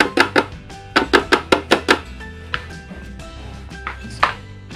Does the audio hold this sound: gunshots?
no